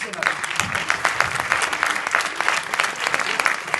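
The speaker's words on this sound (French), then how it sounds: "Deuxième applaudissement." Dense, lively applause from a crowd at an anniversary celebration, loud and close with many overlapping hand claps throughout.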